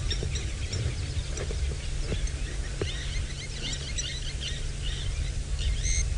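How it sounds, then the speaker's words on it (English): Grey-headed sparrows call in a steady stream of short chirps and twittering notes, fairly near and clear, over a constant low rumble of a vehicle engine on an early-morning safari drive in the African bush. "We've got a new one. Grey-headed sparrows."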